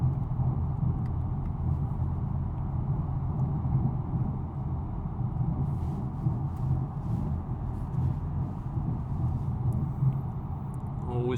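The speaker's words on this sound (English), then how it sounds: "we'll do a little bit of an acceleration run" BMW M4 xDrive pulling hard on a closed stretch of highway, a steady low engine rumble and road roar holding at close range through the whole run with no breaks.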